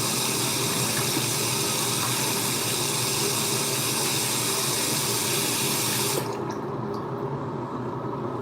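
Tap water runs steadily as a broad, constant hiss while someone wets their hair, then the flow cuts off abruptly near the end, leaving quieter dripping and room tone.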